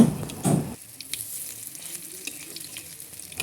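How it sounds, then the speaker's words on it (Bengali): Noodle piyaju fritters fry in oil on low heat: a couple of louder sizzling bursts at the start, then a faint, steady crackle and bubble, with no talking. "আমি কিন্তু পেঁয়াজুগুলো একদম লো হিটে ভেজে নিচ্ছি"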